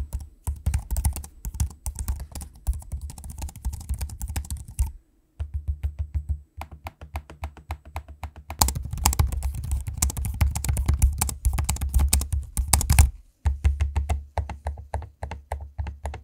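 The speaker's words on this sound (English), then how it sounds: "here's a quick audio sample of me using both the keyboards and the trackpads" Typing on the keyboards and clicking the trackpads of Acer Predator Triton 14 and Acer Swift X laptops makes rapid, close clicking keystrokes in steady runs, broken by brief pauses, with no talk.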